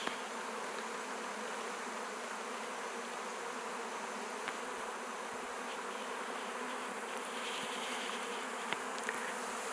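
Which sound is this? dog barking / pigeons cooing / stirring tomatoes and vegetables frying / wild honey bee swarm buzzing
wild honey bee swarm buzzing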